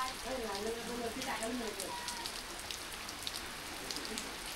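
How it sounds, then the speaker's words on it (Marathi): Heavy monsoon rain pours down on the way to Marleshwar temple, a dense, steady hiss of drops drumming on surfaces, with a voice talking briefly under it at the start. "पाऊस पण चालू आहे जोरात"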